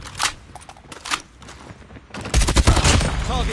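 Gunfire from the Call of Duty Mobile video game in a ranked match crackles in short bursts, then swells into dense, loud rapid fire in the last second or so.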